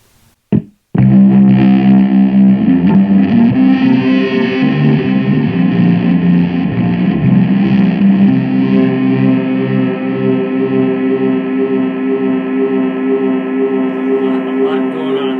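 A bass guitar through a delay effect on a Positive Grid Spark Mini amp plays a sustained passage with smeared repeating notes, loud and continuous after a couple of short plucks at the start.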